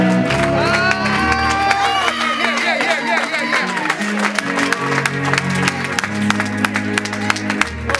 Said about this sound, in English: Lift up your hands and clap that back.